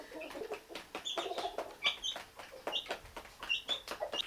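Black hens clucking near at hand on a tea estate, a steady run of short overlapping clucks and chirps from several birds, with no voices over them.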